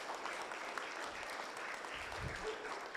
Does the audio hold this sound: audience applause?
yes